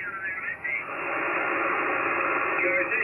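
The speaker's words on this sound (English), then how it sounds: "a lot of noise on 20 meters right here" Static noise on the 20 meter amateur radio band, a dense hiss with a faint warbling tone, received through an end-fed HF wire antenna, steady and moderately loud with no clear speech.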